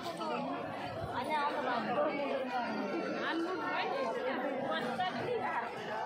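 Dense, steady chatter from a large crowd at a busy market fair where buckets, boxes, account books and pens are sold, many overlapping voices murmuring close and loud throughout.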